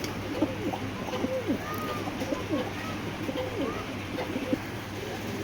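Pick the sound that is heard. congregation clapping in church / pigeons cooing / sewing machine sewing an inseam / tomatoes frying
pigeons cooing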